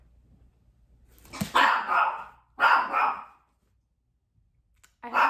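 A dog gives two loud, close barks a second apart, then falls silent before a third bark begins.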